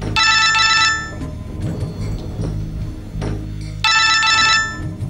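A telephone rings indoors in a Punjabi TV serial scene, two bright trilling bursts about three seconds apart, loud and close over low background sound.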